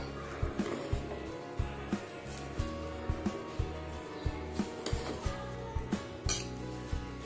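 A spoon scrapes and clinks against the metal pressure cooker while cooked mint rice is stirred, producing regular knocks about every half second with a brighter clink near the end.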